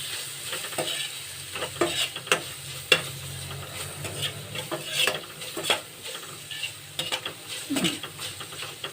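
A spoon scrapes and knocks repeatedly against a pan while pasta is tossed with turmeric and spices, soft sizzling underneath and sharp clinks scattered throughout, close and without voices.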